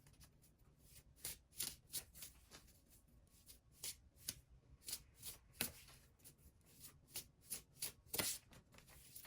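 Oracle cards shuffled by hand, a steady run of crisp riffling bursts and soft slaps repeating every half second or so, close and clear with no voices.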